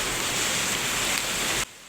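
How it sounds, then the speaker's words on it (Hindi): Heavy rain pours down outside, a dense, steady hissing roar that fills the whole stretch evenly before dropping away suddenly near the end. "अभी जैसे ही उठी मैं तो देख रही हूँ कि बारिश हो रही थी बहुत तेज़ वाली, जो कि आपको सुनाई दे रही होगी।"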